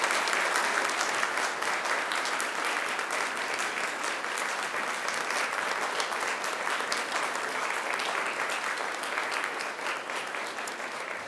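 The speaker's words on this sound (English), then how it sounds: "now it's time to give them a mighty round of applause" Graduates and their audience applaud at a Macquarie University graduation ceremony, a long, even wave of clapping from a large crowd that fades only slightly over eleven seconds.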